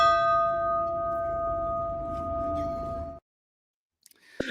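A small hand bell rings with a sustained, pure metallic tone that fades and cuts off, followed by a brief faint sound near the end.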